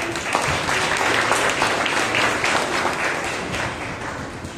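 A congregation at a New Year fellowship prayer meeting claps for a boy, giving dense, steady applause that fills the whole stretch and stays loud from start to finish.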